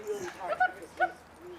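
A dog named Strider gives a couple of short, high yips and whimpers, close by, between spoken praise from a person.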